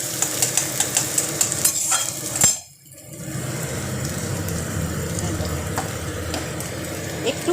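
Ginger and green chilli frying together in hot oil for a curry, a steady close crackling sizzle with a brief stir or clatter partway through.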